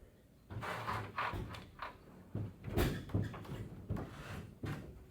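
Lowrider hydraulic suspension dumping after a fluid change to 0W20 oil: a run of close knocks, clunks and hissing releases over several seconds, fairly quiet overall.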